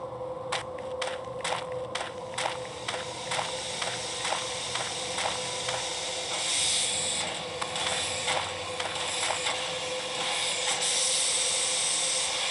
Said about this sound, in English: The engineer and firemen are keeping the steam well up